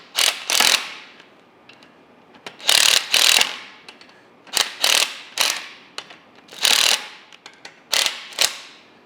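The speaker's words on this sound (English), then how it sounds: "So just tighten these bolts, and it's just going to pull out on this pin." A ratchet wrench tightens brake bolts on an Allis Chalmers D17 tractor, loud and close, in about seven separate bursts of rapid clicking with short pauses between them.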